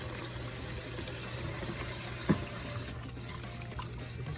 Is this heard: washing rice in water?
yes